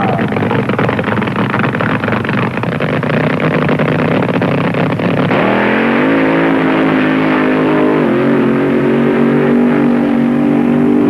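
A nitromethane Funny Car on the Ontario Motor Speedway quarter-mile drag strip at the 1970 NHRA Supernationals roars loudly, its engine note climbing sharply partway through as it launches, with another rise shortly after, close and dominant.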